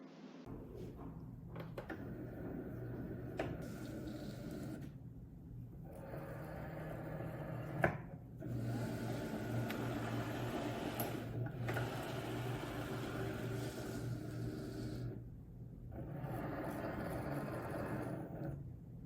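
A Cricut cutting machine with a fine point blade loading and measuring a mat with vinyl on it, a steady motorized whirring hum in long stretches broken by brief pauses and one small click.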